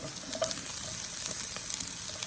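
Garlic and onion sizzling in hot oil in a wok, a soft continuous crackle and hiss with light irregular pops, fairly quiet and alone.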